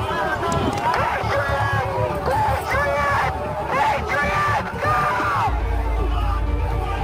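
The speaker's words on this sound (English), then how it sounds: "members in the crowd shout at him" A crowd at the US Capitol shouting and yelling as it surges forward, dense overlapping voices and whoops close by, loud and continuous with a brief lull near the end and a low rumble underneath.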